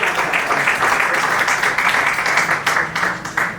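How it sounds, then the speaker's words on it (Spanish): An audience at a poetry honors award ceremony applauds the foundation president, steady dense clapping from a full room, fairly loud and even, with a few sharper claps standing out near the end. "Aplauso también para el presidente"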